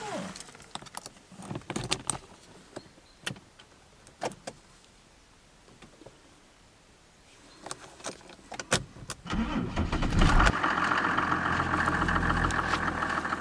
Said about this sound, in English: let's start the car so you can hear the way that she works